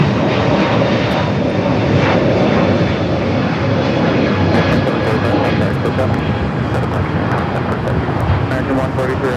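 An airliner takes off at LAX with a loud, sustained jet engine roar that stays constant and close throughout.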